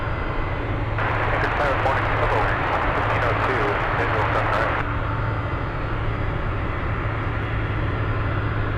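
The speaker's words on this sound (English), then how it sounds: "Cargo Lux taxing on Romeo." A Cargolux cargo jet taxis on a taxiway at Anchorage airport, its engines a steady, broad, distant roar that swells for a few seconds before settling back, while a voice talks over it.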